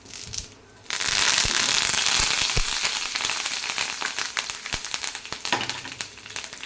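Asafoetida, turmeric and curry leaves hit hot oil in a tempering for mint chutney, bursting into a loud steady sizzle with scattered pops and crackles after a brief quieter start.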